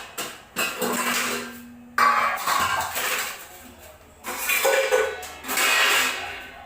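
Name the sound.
mixer grinder jar being taken out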